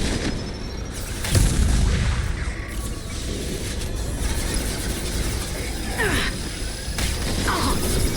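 A missile strikes in the video game Mass Effect 2 with a heavy boom and rumble early on, set amid ongoing mechanical clanks, whirs and scattered combat noise.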